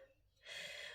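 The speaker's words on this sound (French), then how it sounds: "Je suis essoufflée." A woman breathes hard and loud, out of breath after eating, in a warm bathroom just after a shower; a quiet lull gives way to a sustained, close, breathy rush.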